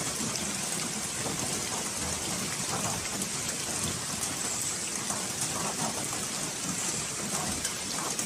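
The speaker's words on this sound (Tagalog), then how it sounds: "At habang nagpapahinga po kami ay bumuhos ang malakas na ulan." Heavy rain pours down steadily, a dense, unbroken hiss of drops drumming on surfaces.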